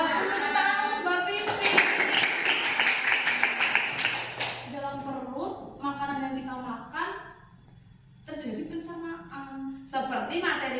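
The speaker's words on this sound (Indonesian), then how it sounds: "Bagus, tepuk tangan untuk Mbak Pipi" Schoolchildren in an Indonesian classroom clap for a classmate, Mbak Pipi, with a burst of brisk, scattered clapping at the start that gives way to a teacher speaking with pauses.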